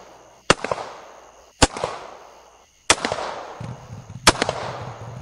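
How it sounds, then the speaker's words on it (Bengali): Gunshots in a Bengali audio drama, fired by a masked man at police beside a police car on a street: four sharp, loud cracks spaced about a second apart, each trailing into a noisy echo, with no talk. "একজন মুখ ঢাকা লোক পুলিশের ওপর গুলি চালাচ্ছে।"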